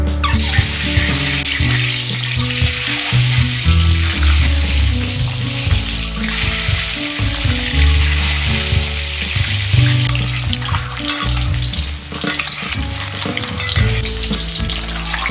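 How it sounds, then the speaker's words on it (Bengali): Eggs frying in hot oil over medium heat in a pan, a steady loud close sizzle with occasional stirring and crackle, no talking. "পরিমাণ মতো তেল নিয়ে তেলটা একটু গরম হয়ে গেলে মিডিয়াম আঁচে আমরা আমাদের ডিমগুলো ভেজে নেব।"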